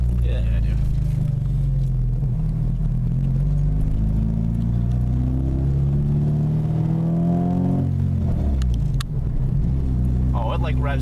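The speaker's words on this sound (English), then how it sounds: "Oh, it like revs down almost instantly." Manual-transmission car with a lightweight flywheel at a car meet, its engine rising in pitch then dropping off quickly after a rev, a steady close rumble throughout with brief talk mixed in.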